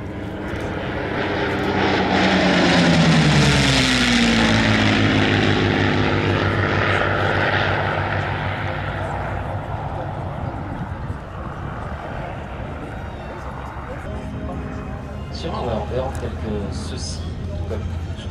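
A propeller warbird, a P-51 or P-40, passes at an air show: a loud engine roar swells as it approaches, its pitch sliding down as it goes by, then fades into a distant drone while a commentator talks.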